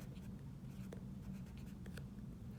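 A Sharpie marker squeaks and scratches across a notebook's front cover while a name is written, giving faint, brief strokes over a steady low hum of room noise.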